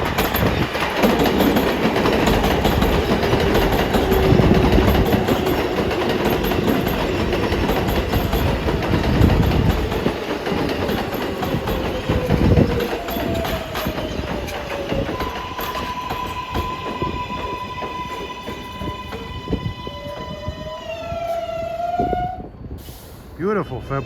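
A New York City 7 Line subway train runs loudly close by with a sustained roar and rattling wheels, then motor whines rise in pitch as it passes and the noise fades near the end.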